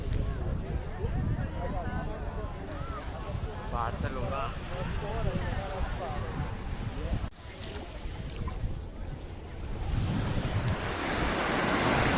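Surf washes steadily onto a beach in Spain on a hot afternoon, a continuous broad roar with wind buffeting the microphone and voices talking over it.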